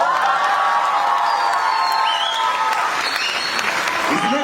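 Applause from the audience at a Hindi hasya kavi sammelan comedy-poetry event, steady and dense for the whole clip, with some cheering and a few whoops rising near the end.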